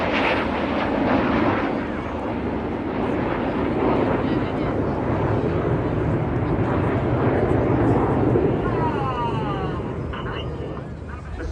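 Red Arrows jets performing the rollback manoeuvre at an airshow over the beach at Bournemouth, a loud continuous jet roar that stays steady throughout with some wind noise, heard under a commentator's voice.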